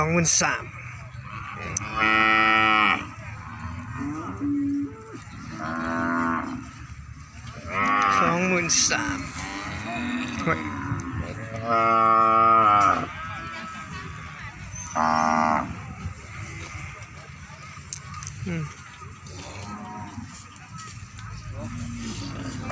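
Cattle at a cattle market moo repeatedly in several long, loud calls spread across the stretch, with farm background noise and a faint vehicle horn between them.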